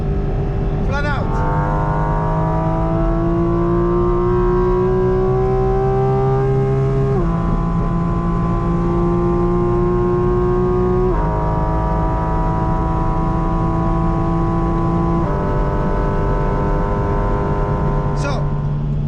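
A Porsche GT4 RS runs flat out on the Nordschleife, its engine note climbing steadily through each gear with brief dips at three upshifts, loud and close throughout, with a faint voice at the start.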